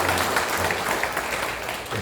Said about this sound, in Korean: 헌신해 주시는 가정에 감사의 박수 드리겠습니다